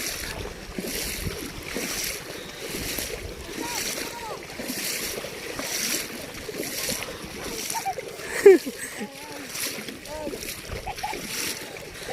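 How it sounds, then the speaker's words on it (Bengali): Four boys struggle to steer a small boat on a river, with water splashing and sloshing against the hull under steady outdoor wind noise, one sharper splash standing out, and distant voices in the background. "নদীতে পোলাপান নৌকা চালাচ্ছে"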